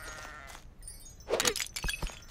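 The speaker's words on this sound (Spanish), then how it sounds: "Era una cabra, tío." Goat bleating in the video game Lila's Sky Ark, a short quavering bleat rising over faint game sounds and ending in a few brief clattering effects, close and clear.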